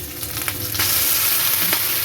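Ginger paste, added after garlic paste, fries in hot oil in a pan, a close, loud continuous sizzle that intensifies partway through as it is stirred.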